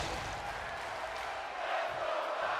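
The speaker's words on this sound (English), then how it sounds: "The crowd chanting for Roxy." A wrestling arena crowd keeps up a dense, continuous roar of chanting voices, blended into a broad wash of sound at a distance.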